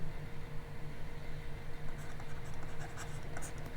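Pen or chalk writing during a Class 10 maths lesson on real numbers, a steady soft scratching that runs through the whole stretch under faint room noise, with no talk.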